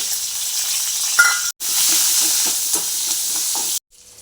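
Mustard seeds and a small onion sizzle in hot tempering oil in a pan, a steady loud hiss broken by small crackles and a sharp cut-off near the end.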